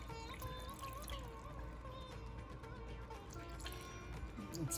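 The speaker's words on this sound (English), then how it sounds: "Add some water." Water pours and trickles steadily into a pan of zucchini for chutney, close and fairly quiet, over a faint background hum.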